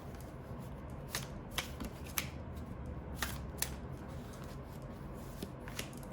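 A deck of oracle cards is shuffled close up in a quiet room, with repeated soft riffling bursts and slaps at an irregular rhythm.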